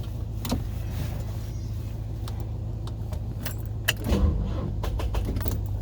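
Keys jangle close by in the ignition of a 1969 Lincoln Mark III, followed by faint ticking clicks as the key is turned and the car fails to start, over a low steady background hum.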